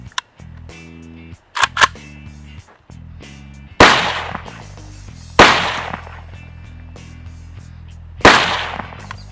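An AK-pattern rifle with a red dot sight fires four sharp, loud shots at uneven intervals at a 100-yard range, each followed by a brief decay, with faint clicks and handling sounds between.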